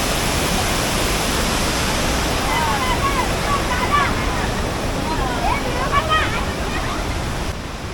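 A Konkan waterfall swollen by heavy rain roars as a dense, constant rush of water, with faint bird chirps scattered above it.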